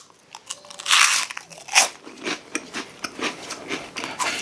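Pickled onion Monster Munch corn snacks are bitten and chewed up close, with two loud crisp crunches followed by a steady run of smaller crackly chewing crunches.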